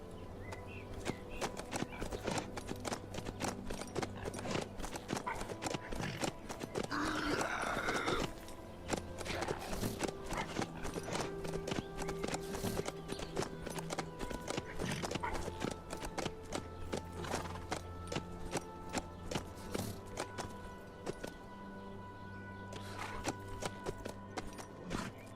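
Horse hooves in the zombie survival game HumanitZ clip-clop in a steady rhythm for over twenty seconds, with a short neigh partway through and faint mechanical game sounds underneath.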